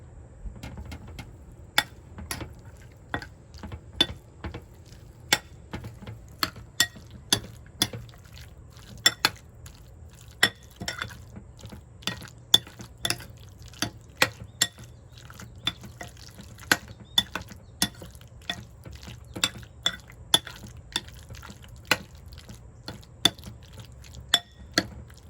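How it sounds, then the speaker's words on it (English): Egg salad being mixed in a bowl with a utensil: sparse, irregular clinks and taps of metal against the bowl, fairly faint and close, repeating loosely throughout with no talk. "And now let's mix it."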